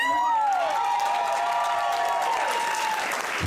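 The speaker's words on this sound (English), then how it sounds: "We demand that we get 2 sets of applause." Convention audience applauding at an Avatar and Korra panel at Contropolis NJ, a dense steady wash of clapping with some cheering that fills the whole stretch, while a voice talks over it.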